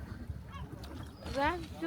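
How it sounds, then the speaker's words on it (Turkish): Seagulls calling at sea around fishing boats, a few honking squawks rising over low engine and water rumble, the loudest cry near the end, with faint voices in the background. "Martılar zaten böyle."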